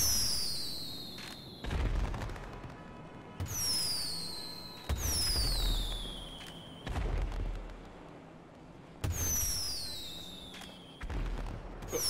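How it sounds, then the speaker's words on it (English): Fireworks in the game GTA 5 launch and burst repeatedly, each rocket's whistling screech followed by a deep boom and crackling tail, about six loud blasts in steady succession with no talk. "Free fireworks."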